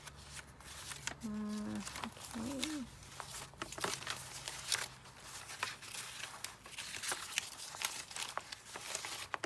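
Dry paper rustles and crinkles as someone sorts through a scrap paper pile on a desk, soft and close with irregular shuffling, and a brief spoken word partway through.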